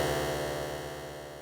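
Sustained Ableton Wavetable synth note from a complex wavetable, with a dense stack of buzzing harmonics and a faint pulsing flutter. It holds steady and slowly fades, alone with no talking.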